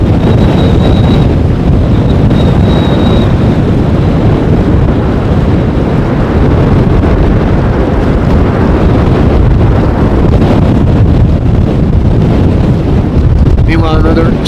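Strong storm wind buffets the microphone in a steady, loud roar for the whole stretch, at an outdoor plane-spotting spot beside Amsterdam Schiphol airport.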